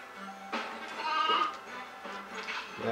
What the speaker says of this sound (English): Yeah, that's right, I picked up a sheep.